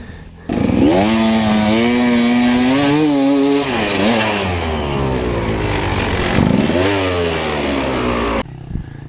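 Enduro motorcycle riding on sand, its engine loud and close, revving up through rising pitch sweeps over about eight seconds before cutting off abruptly.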